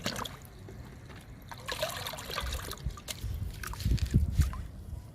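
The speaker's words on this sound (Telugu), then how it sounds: "కలుపుతున్నాము లిక్విడ్ని, వాటర్ని." Water swirls and sloshes in a bucket as it is stirred, with trickling and splashing growing louder toward the end.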